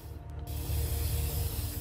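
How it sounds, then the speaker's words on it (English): A spray can hisses in the video game inFAMOUS Second Son, a continuous loud broadband spray that starts almost immediately and holds steady to the end, with no talking. "I actually feel like I'm actually holding a spray can now"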